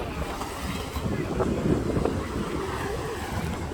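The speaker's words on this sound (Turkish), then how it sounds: "deniz coştu ha. Ama genel olarak dalgalı." Rough, churning sea waves and wind roar steadily around a boat near Kayra Beach, Dikili, loud and constant, with muffled voices underneath.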